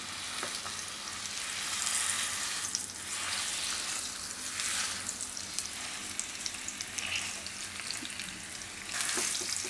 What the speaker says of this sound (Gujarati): આને આપણે ઘીમાં શેકી લઈશું ખજૂરને